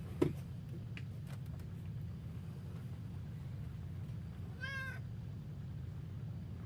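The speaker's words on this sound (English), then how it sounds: "There's a cat here now." A cat meows once, a short rising and falling call partway through, heard over a steady low indoor hum with a few faint clicks and no talking.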